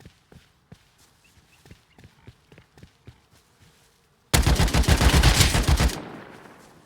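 Loud, close burst of rapid gunfire in the survival game Rust, sustained for over a second and then fading, preceded by quiet running footsteps.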